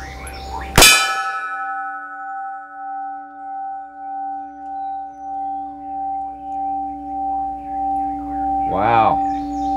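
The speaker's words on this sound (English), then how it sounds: "Wind chime." A homemade wind chime cut from a CO2 tank rings out with one sharp clang after a gunshot-like strike, leaving sustained bell-like tones that pulse and slowly fade, with a brief rising chirp-like sound near the end.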